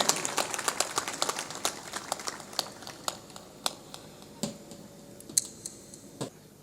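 An audience at a devotional religious gathering claps in scattered, uneven bursts, the sharp hand claps sounding fairly faint and somewhat distant, with no one speaking over them.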